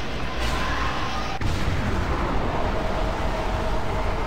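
Heavy weapon fire in the video game Doom 3: BFG Edition, a loud blast with a sharp crack around one and a half seconds, set in continuous rumbling low-frequency game noise that stays steady throughout.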